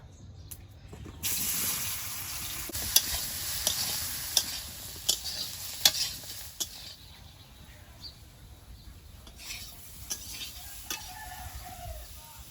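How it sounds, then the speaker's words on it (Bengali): Eggplant slices sizzle in oil in a wok over a home stove, a fairly quiet hiss broken by sharp spits and pops that fade in the later part, with a rooster crowing faintly in the background. "বেগুনটা ভেজে নেবো"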